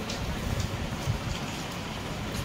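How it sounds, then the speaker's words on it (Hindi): Heavy evening rain pours down steadily in an even, close hiss of drops striking surfaces, with faint heavier patters now and then and no talking. "तो बढ़िया बारिश हो रही है।"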